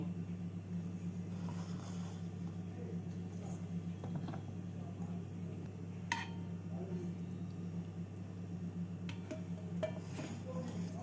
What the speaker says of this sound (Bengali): আমি এখানে মিক্সিং জারে বেটে নিচ্ছি